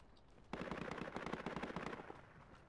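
Rapid bursts of machine gun fire in the military shooter game Project Reality, a steady rattling stream of shots lasting about two seconds after a short quiet start, fairly loud and close, with no voices.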